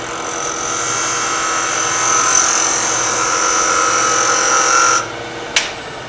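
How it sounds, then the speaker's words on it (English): A shallow fluted gouge cutting a miniature wood turning on a lathe, a loud steady whirring scrape for about five seconds that stops abruptly, followed by a brief click. "I think I'll use my shallow fluted gouge and figure out how I'm going to do this"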